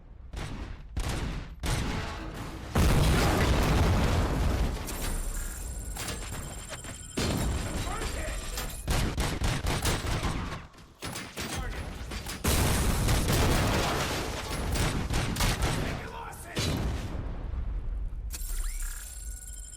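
Turret gunfire in the RoboCop: Rogue City video game comes as rapid, loud bursts of shots and mechanical clatter, starting and stopping repeatedly with brief pauses, near and dominant.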